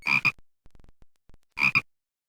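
Two double-pulsed croaks from a frog in the video game Microsoft Dangerous Creatures, clear and close, separated by a pause with faint clicks.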